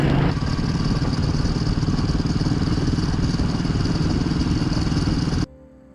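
A motorcycle engine runs close by with a steady, loud, rough drone and a mechanical clatter, holding an even level for about five seconds before cutting off abruptly.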